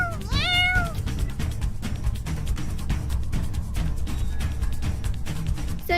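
A cartoon cat gives one short rising meow near the start, followed by a busy backdrop of clicks and ambient sound, fairly faint overall.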